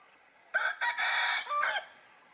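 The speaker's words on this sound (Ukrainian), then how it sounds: "Півень." A rooster crows once, loud and close, a drawn-out cock-a-doodle-doo in several broken segments, with no talking.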